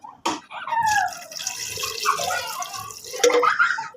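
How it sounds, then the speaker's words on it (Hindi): Water is poured into a handi of chicken feet cooking with masala and ghee, a close splashing pour that starts abruptly and runs in uneven gurgling bursts. "तो इसके साथ ही हम इसमें पानी ऐड कर देंगे।"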